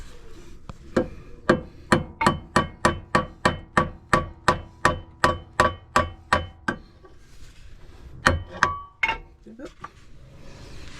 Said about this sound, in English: you can just use a hammer. So just tap it slowly